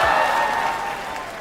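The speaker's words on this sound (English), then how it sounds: "There's an actual applause when you like remove the country." Brief built-in applause sound effect from a Canva presentation, a short steady burst of crowd clapping that tapers off slightly over its length.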